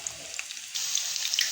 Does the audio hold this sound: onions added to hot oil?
yes